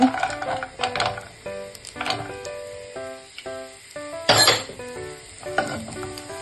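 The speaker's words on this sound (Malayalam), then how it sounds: "നമുക്ക് നന്നായിട്ടൊന്ന് ഇളക്കി കൊടുക്കാം. ജിഞ്ചറും ഗാർലിക്കും ഇട്ട് കൊടുക്കാം." Ginger and garlic sizzle in a hot pan with cumin while a utensil stirs and clinks against the metal in short, uneven bursts, close and fairly loud, with no voices.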